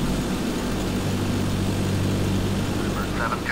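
A2A Cessna propeller plane in a flight simulator, its engine droning steadily at high RPM throughout, loud and continuous with a low harmonic hum and faint tonal chirps near the end.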